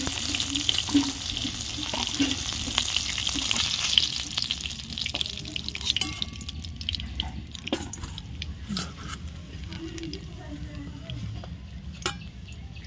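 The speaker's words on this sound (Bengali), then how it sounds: "ভেজে নেব।" Snakehead (lata) fish frying in a pan, giving a steady, loud sizzle with occasional pops and stirring clatter throughout.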